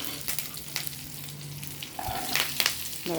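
Curry leaves crackle as they are stir-fried in a pan for chicken uppu kari, a soft, steady sizzle with light stirring scrapes and a faint low hum underneath.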